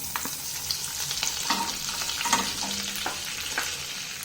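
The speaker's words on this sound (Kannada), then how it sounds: "ಈ ಬಾಣಲೆಗೆನೆ ನಾನು ತಗೊಂಡಿರೋಂಥ ಬೆಣ್ಣೆನ ಆ್ಯಡ್ ಮಾಡ್ಕೊತಿದ್ದೀನಿ" Butter melting in a frying pan while cooking palak paneer gives a steady close sizzle with light crackles and a few scraping stirs, no voices.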